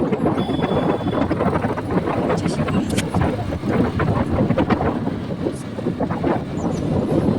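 Wind buffets the microphone from a vehicle driving along a straight road toward Saratwadi near Nashik, a steady broadband rumble with road noise throughout, loud and continuous with small gusty swells.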